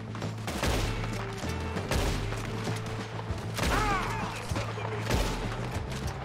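Gunshots from Red Dead Redemption 2 crack out several times at irregular intervals over a busy game soundscape of low hum, scattered sharp reports and a brief voice-like sound.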